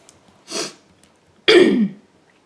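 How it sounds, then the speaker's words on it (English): A breathy throat sound followed by one louder, harsh cough, close by with quiet between them. "I had a coughing fit."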